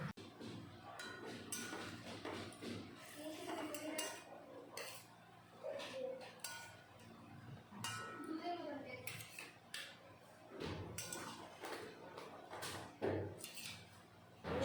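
Fried ash gourd pieces go into a simmering mustard curry in a kitchen pot, with faint clinks of a utensil against metal and soft stirring scrapes under a quiet voice.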